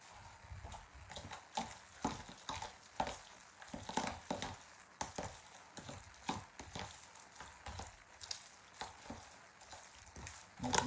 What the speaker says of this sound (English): I give it a nice stir.